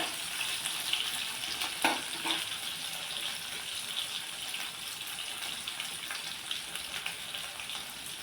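A single tomato sizzles steadily in hot oil in a pan while beetroot chutney is being made, a continuous hissing fry with a few faint stirring knocks near the start.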